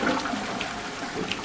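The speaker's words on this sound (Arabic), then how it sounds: "ايه السيفون ده؟" A toilet flushing in the horror video game Resident Evil Requiem, a steady rushing, gurgling wash of water filling the short stretch at moderate level with no voices.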